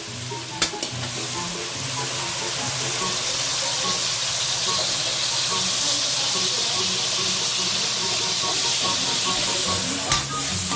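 Kangkong stir-frying with soy sauce and ground pepper sends up a loud, constant sizzle with steamy hiss and occasional clinks of a utensil stirring the pan.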